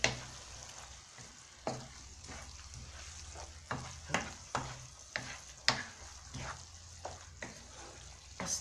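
Onions frying in oil in a pan for a potato chakchouka, a steady close sizzle broken by a series of sharp stirring scrapes and clacks of a utensil, with no talk.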